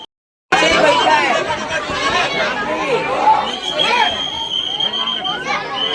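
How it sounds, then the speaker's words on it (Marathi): A Sunday crowd of visitors gathered at a zoo tiger enclosure, a dense hubbub of many voices chattering and calling at once, loud and close throughout after a short silent start. "टायगर बघायला किती गर्दी आहे बघा. संडे असल्यामुळे फार गर्दी आहे."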